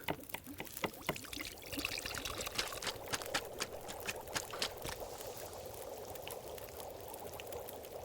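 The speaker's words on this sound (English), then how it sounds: "Water, cooking, not ready." Water boils in a pot while cooking in The Long Dark video game, a steady bubbling, crackling hiss running evenly throughout with no one speaking.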